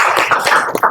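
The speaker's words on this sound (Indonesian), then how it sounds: "Tepuk tangan dulu." A classroom of students clapping hands together in a short burst of dense, overlapping claps, close and fairly loud, with no talking.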